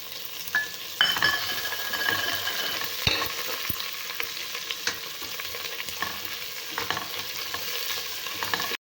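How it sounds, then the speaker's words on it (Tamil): Onion and garlic fry with curry leaves in a pan for brinjal rice, giving a continuous sizzle broken by repeated scrapes and clinks of a spoon stirring against the pan. "வெங்காயம் பூண்டு நல்லா வணங்கிட்டு இருக்குதுங்க"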